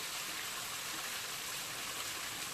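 Water pours steadily into a container outdoors on Mount Wellington, a constant, even rushing splash with no breaks, fairly soft and alone.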